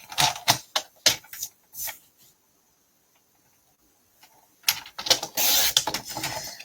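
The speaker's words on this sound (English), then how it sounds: "So now getting our cutter out again" A paper cutter slicing paper for a scrapbook layout: a quick run of sharp clicking, ticking strokes, a pause of near silence, then another rapid burst of scraping, cutting clicks, close and fairly quiet.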